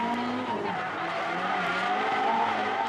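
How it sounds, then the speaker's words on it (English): A drift car sliding at Ebisu during a D1SL competition round, its tires squealing in a long continuous howl over the engine roar, loud and close with no pause. "This is some great drifting."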